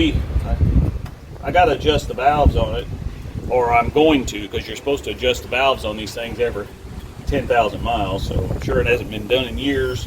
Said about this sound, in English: Sorry for the wind, it's pretty windy outside.